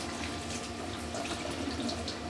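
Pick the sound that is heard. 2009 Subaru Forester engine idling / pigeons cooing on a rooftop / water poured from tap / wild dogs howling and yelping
water poured from tap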